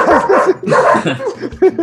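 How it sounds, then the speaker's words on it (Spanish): Dogs bark loudly and close by in a rapid, continuous run of yaps and barks, with no pause between them. "ya hiciste enojar a los perros"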